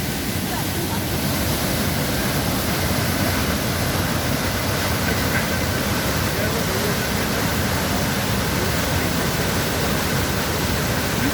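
Düden waterfall in Antalya roars at night as a steady, dense rush of falling water. The sound is loud, close and unbroken for the whole stretch.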